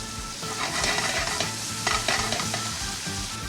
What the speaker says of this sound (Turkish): Şöyle biraz da domateslerle soteliyoruz.